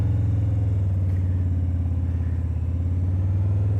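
A motorcycle engine runs close and loud at held revs while the clutch is eased out, a steady, throbbing low drone with no talk.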